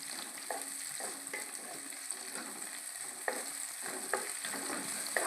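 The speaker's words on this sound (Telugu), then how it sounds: "ఇదో ఉల్లిపాయ ఇవి కూడా మంచిగా వేపేసుకుందాం కొంచెం వేయగా క్యాప్సికమ్ కూడా వేసి ఈ క్యాప్సికమ్ కూడా కొంచెం మంచిగా మగ్గనిద్దాం" Onion and capsicum fry in a pan with a steady, close hiss of sizzling oil, broken by repeated scrapes and clicks of a spatula stirring roughly every second. No voices are heard.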